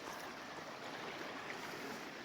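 A shallow river crossing on the Mavora River Track in New Zealand, water rushing and burbling in a steady, fairly loud, unbroken wash with no voices over it.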